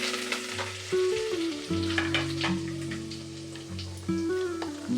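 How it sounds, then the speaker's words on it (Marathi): Mustard seeds and cumin spluttering in hot oil for a Maharashtrian dish give a steady close sizzle with scattered crackles throughout, over a sustained tonal hum. "मोहरी जिरं चांगलं फुटत आलेलं आहे"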